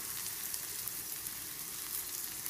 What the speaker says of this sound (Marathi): आपण हा कांदा परतायला ठेवूया।